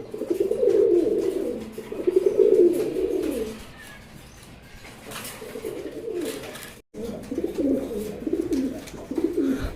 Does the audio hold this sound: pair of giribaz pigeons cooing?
yes